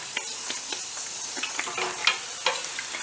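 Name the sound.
frying puffed batter cakes in oil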